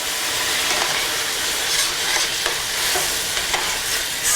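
Browned onions sizzle steadily in a pan after stout is poured in, a dense bright hiss with small crackles and occasional stirring scrapes, close and loud with no talking.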